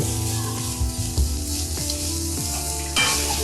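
Papad deep frying in hot oil gives a loud, busy sizzle and bubbling, broken by a few soft stirring knocks and a brief surge near the end.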